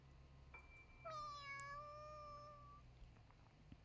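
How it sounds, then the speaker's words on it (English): A cat meows in the visual novel game Totono: a drawn-out, wavering meow over a low steady background hum, fairly close and clear with no talking. "Eri meows into her ear."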